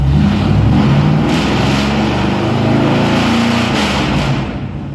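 A car engine revs up to about 3,500 RPM and holds there, a loud, close, sustained roar that eases off slightly at the end, with no talk over it.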